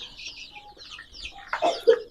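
Native village chickens on a poultry farm cluck close by, soft chatter followed by a few louder, sharper clucks near the end.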